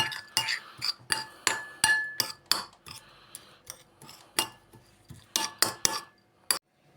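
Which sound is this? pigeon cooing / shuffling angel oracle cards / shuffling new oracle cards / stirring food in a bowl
stirring food in a bowl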